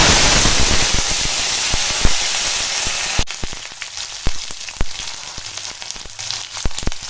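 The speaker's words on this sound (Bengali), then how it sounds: "এখন কড়াই দিয়ে দিয়েছি সরিষার তেল আর এখানে দিচ্ছি কালো জিরা ফোড়নে" Nigella seeds crackling and sizzling in hot mustard oil in a wok, a loud hissing fry that settles into scattered sharp pops and spits, close up with no talking.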